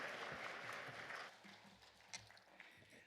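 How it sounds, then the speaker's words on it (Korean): A church congregation applauds to welcome a pastor, a soft, fairly distant patter of clapping that fades away after about a second. "박수로 환영하면서 하나님께 영광을 올려드립니다"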